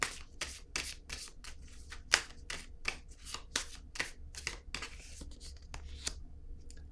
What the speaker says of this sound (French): je vais déposer une autre carte là ici